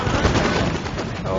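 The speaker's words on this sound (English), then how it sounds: "This is going to be a devastating volley, I think. Come on, open fire." Musket volley in Napoleon Total War, a dense, continuous rattle of massed gunfire that blends into a loud roar of battle, with a voice speaking over it.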